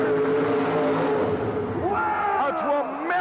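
A mud bog race car engine at an indoor arena event roars and revs with rising, shifting pitch, loud and close, while a commentator talks over it.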